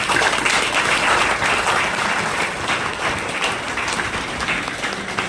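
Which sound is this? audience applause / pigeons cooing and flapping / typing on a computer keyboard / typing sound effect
audience applause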